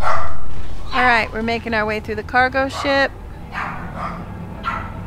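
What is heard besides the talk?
dog barking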